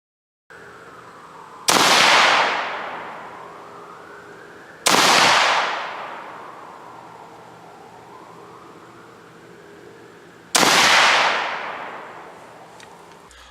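Three loud rifle shots fired at a pie-pan target plate mounted on a wood stake, each a sharp crack with a long decaying echo, spaced several seconds apart over steady outdoor background.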